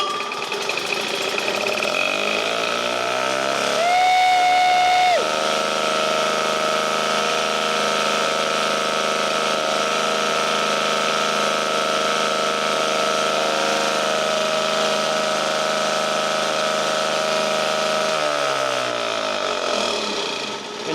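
A restored 1952 military generator's small engine starts and runs with a steady, loud mechanical drone, holding a constant idle for most of the stretch before winding down near the end; no one speaks.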